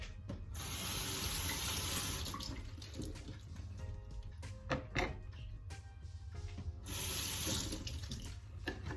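Cabbage washed under a running kitchen tap, a steady close hiss of water splashing into a sink, broken midway by clattering and rustling as the leaves are handled, then the full stream returns.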